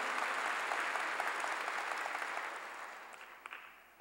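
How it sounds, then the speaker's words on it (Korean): Congregation applauding during a church sermon, a steady wash of many hands clapping at moderate level that gradually fades toward the end, with a few distinct claps near the close. "믿으면 박수로 하나님께"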